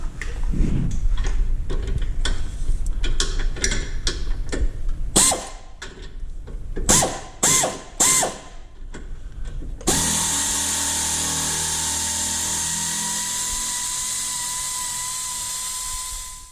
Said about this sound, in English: we'll take a 1/2 inch socket and remove the 4 bolts on the rear bump stop for the leaf springs